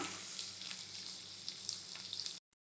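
Chopped onions sizzle softly in a pan with occasional pops and crackles, a quiet steady fry that stops abruptly.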